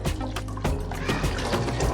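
Water is poured into a white chickpea curry in a pressure cooker, a brief close splashing trickle with liquid bubbling and sloshing throughout.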